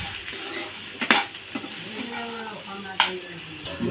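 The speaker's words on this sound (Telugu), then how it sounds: "ఇప్పుడు కలబెట్టేసుకుందాం ఒకసారి" Turmeric being stirred into a frying pan while cooking, with a utensil scraping and clinking against the metal pan over a steady low sizzle, two sharper knocks standing out.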